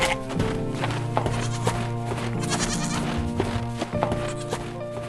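White goats bleat repeatedly in a cheerful animated farm scene with a green truck and trailer, the bleats layered over busy music and light clip-clop sounds.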